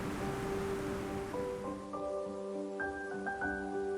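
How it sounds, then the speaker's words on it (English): Steady rushing water flows continuously over short waterfalls and pools on a rocky stream bed at Jackson Falls, New Hampshire, with sustained tonal hums layered over the wash throughout. "Jackson Falls is a series of short waterfalls and pools on a rocky stream bed."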